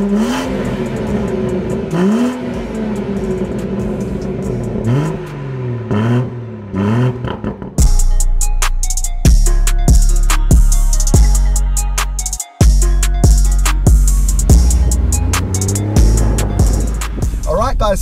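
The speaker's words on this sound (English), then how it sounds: "we're out in this MOTECH M140i, and bro, the revs, it sounds so good" A MOTECH-tuned BMW M140i revs repeatedly while driving, with engine pitch rising and falling and then sharp, loud bursts of acceleration with crackling pops, heard from inside the car.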